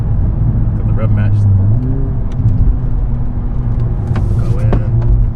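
A 2021 Honda Civic Type R engine heard from inside the cabin drones steadily, with a quick rise and fall in revs as it rev-matches on a downshift amid road noise.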